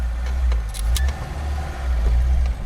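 A Lada Zhiguli car runs with a steady low engine rumble close by, a few light clinks and rattles on top, no talking.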